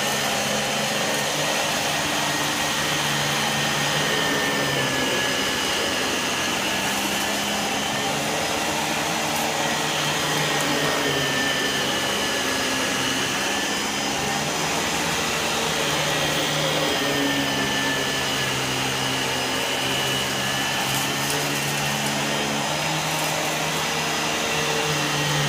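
A Dyson DC17 upright vacuum cleaner runs steadily and loudly for the whole stretch, a constant close whine and rushing hum without pause.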